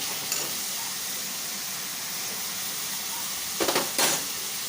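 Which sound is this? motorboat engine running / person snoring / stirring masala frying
stirring masala frying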